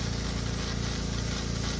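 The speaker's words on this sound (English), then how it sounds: "bottom spray is a very fine spray, which actually creates the ice crystal" Home snow-making machine forcing an air-water mix through fine and high-pressure nozzles, a steady loud hiss of spraying water with a constant low pump drone underneath.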